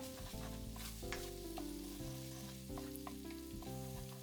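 Doubanjiang and tenmenjan sizzling in a hot pan beside pork for twice-cooked pork, a dense continuous frying hiss with faint clinks, steady and close, with no one speaking.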